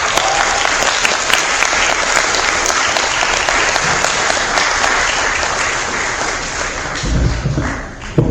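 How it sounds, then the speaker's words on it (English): Dense, steady audience applause welcoming a panel at a forum on Palestine, many hands clapping loudly for several seconds before tapering with a few thumps near the end. "please give them all a great hand of applause"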